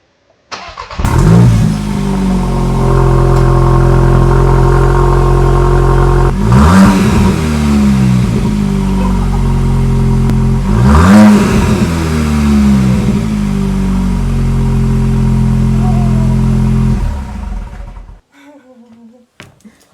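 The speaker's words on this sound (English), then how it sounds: "who wants to hear what a straight piped Golf GTI sounds like?" A loud, raspy straight-piped MK8 Golf GTI exhaust idles then roars through two hard revs, booming and crackling before settling and cutting off near the end.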